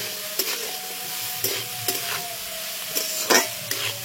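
Capsicum stirred and fried in a pan makes a continuous close sizzle, broken by repeated sharp scraping knocks of the spatula at irregular intervals.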